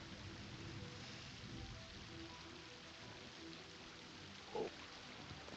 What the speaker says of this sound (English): It's cold out here in the rain.